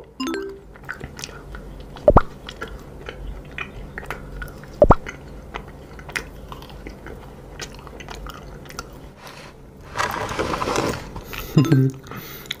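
Bites and chews of an edible cake shaped like a krathong, the Loy Krathong float, eaten close to the mic with a few sharp crunchy bites and a louder burst of chewing near the end.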